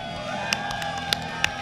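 A ballroom crowd at a Frosty Faustings Guilty Gear Top 8 tournament cheers, a continuous distant roar of voices broken by a few sharp shouts and whoops.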